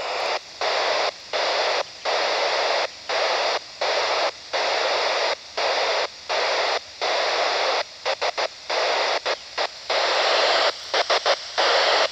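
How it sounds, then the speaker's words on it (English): Radio static with a satellite's Morse code CW tone keyed on and off, dots and dashes in an irregular rhythm, strong and clear over hiss. "That's CW from a satellite. A nice strong signal."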